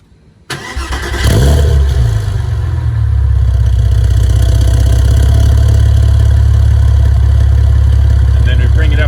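A warm Porsche Boxster fitted with an eBay exhaust and dB killer muffler inserts cranks and fires up, then settles into a loud, steady, close idle with a deep rumble.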